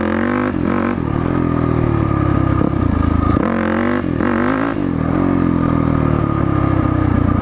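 A dirt bike engine revs hard and close during a wheelie takeoff, with repeated throttle blips and rising, falling pitch sweeping over a loud, continuous mechanical drone.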